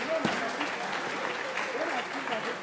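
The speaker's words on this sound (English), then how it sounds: "So let's clap for ourselves," Conference audience applauding themselves at a national conference on non-oil export, a steady wash of clapping that holds at an even level for a few seconds, with a voice faintly audible beneath it.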